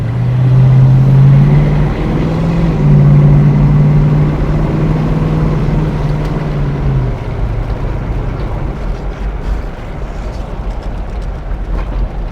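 Mercury Cougar fitted with a Mustang exhaust kit, idling and revving with a deep steady rumble close by, a sustained low drone that swells early and then settles to a rougher idle, no voices.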